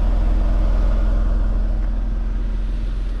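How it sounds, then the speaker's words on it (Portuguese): A car's rear-mounted engine idles steadily behind the listener, a loud, constant low hum with a faint pulsing texture and no talk. "Você escuta aí, o motor é aqui atrás"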